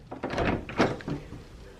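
Rescued feral cats scrabble and paw at the far side of a closed door, giving a few uneven bursts of scratching and thumping at close range.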